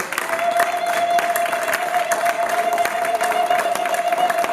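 Church congregation at a worship service applauding and cheering, a steady dense wash of clapping with a sustained sung or held tone running through it, loud and continuous.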